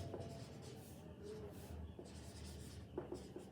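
A pen scratches faintly across paper in short strokes while a chemistry lesson on the Benedict test is written out by hand, quiet and close over a low background hiss.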